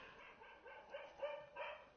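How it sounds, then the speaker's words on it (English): A dog barks a few times in The Chantry, a PlayStation VR game, the yips faint and somewhat distant against a quiet backdrop. "There's that dog again."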